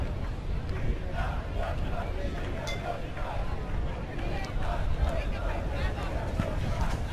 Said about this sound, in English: The crowd just invented another cheer for Giri.